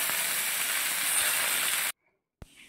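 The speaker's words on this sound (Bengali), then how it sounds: "এবারে দেখো নেড়ে চেড়ে ভেজে তুলে নিয়েছি" Fish and mustard flowers fry in a pan with green chilli and garlic, giving a loud, steady sizzle for about two seconds that cuts off abruptly, followed by a brief click after a pause.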